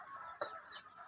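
Chickens cluck faintly in a school poultry coop for broilers, soft low clucks with one brief sharper call, heard alone and quietly.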